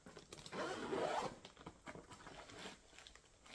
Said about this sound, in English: Zips up nice.